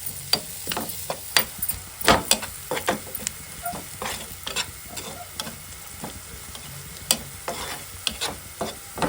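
Garam masala and spices being sautéed in a pan for a wild mushroom curry, with repeated spatula scrapes and clicks in an uneven rhythm over a low sizzle, close up and with no talking.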